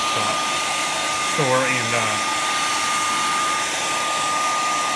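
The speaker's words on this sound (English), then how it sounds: "And a hair dryer, so you can pick up a hair dryer for a buck at a retail" A hair dryer blows steadily and loudly throughout while damp shoes are dried for a shoe shine, with a brief spoken voice over the constant whir.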